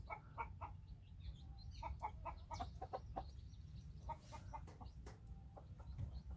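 Chickens from a backyard flock with new chicks cluck softly in short repeated bursts, faint and close against a low rumbling background.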